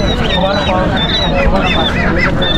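Ducklings of the king-duck type at a village poultry market, honking and quacking steadily in a dense crowd of calls, with people talking nearby throughout.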